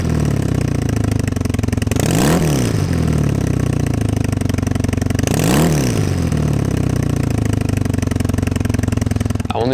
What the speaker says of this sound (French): On est ensuite parti sur un échappement court de notre marque French Monkeys Exhaust avec un son qui lui donne vraiment toute son âme